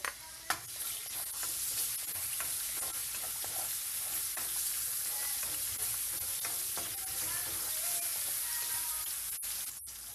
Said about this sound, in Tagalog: Gigisa na natin yung ating bawang.